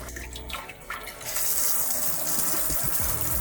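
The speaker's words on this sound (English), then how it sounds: "the nozzle will spray a stream of heated water" A HOROW X70 smart toilet's nozzle sprays a stream of heated water. After a quieter opening second, a steady, close, broadband watery hiss takes over and holds to the end.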